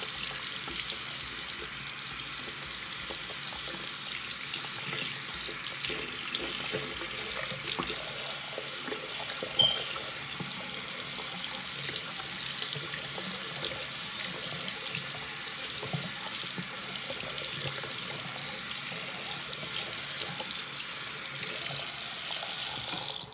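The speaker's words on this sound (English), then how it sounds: "you're gonna clean the disc beforehand. Just a quick rinse." A CD disc rinsed under a running kitchen tap, with water streaming steadily into a sink as a constant hiss and splash throughout, loud and close with no talk.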